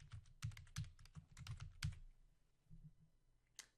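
Quick keystrokes on a computer keyboard clatter in an uneven run of close, crisp taps, then pause before a final single press.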